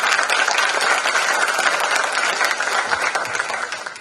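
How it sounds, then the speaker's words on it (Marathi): An audience bursts into loud, dense applause for books, continuous clapping from a crowd that holds steady and then begins to taper at the end. "पुस्तकांसाठी एक जोरदार टाळ्या उमटवते."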